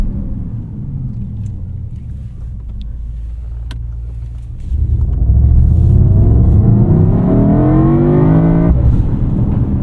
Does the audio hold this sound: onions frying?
no